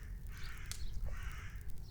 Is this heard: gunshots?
no